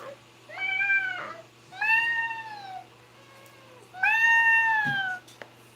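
Pet cat meowing three times in long, drawn-out, whiny calls spaced a second or so apart, close and clear over a quiet room hum, with no talking.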